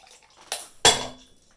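Half a cup of water poured onto a pasta bridge in a design challenge, heard as two quick splashy clatters, the second louder and trailing off briefly, close and alone.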